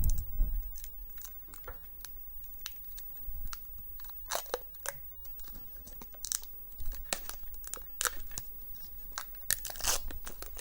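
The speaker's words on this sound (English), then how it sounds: "we'll get the plastic off the screen" Protective plastic film peeled off the screen of a new Atari handheld gives a run of close crinkling, crackling and tearing bursts that come and go over about ten seconds, with no talking.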